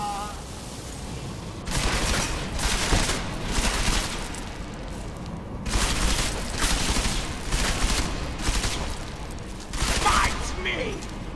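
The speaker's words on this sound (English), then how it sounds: "Where are the shots coming from?" Gunfire from the video game Deus Ex: Mankind Divided comes in repeated clattering volleys of rapid shots, loud and close, separated by short lulls, with voices murmuring faintly underneath.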